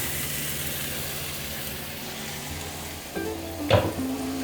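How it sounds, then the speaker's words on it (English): Meatballs with onion and bay leaves fry in a pan with a soft, steady sizzle, then a spoon clatters and scrapes against the pan near the end, briefly louder. "we're gonna put our meatballs with the onion and the bay leaves, all of them"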